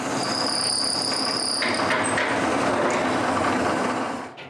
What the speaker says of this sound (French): Je dois y percer un trou au centre pour leur tige filetée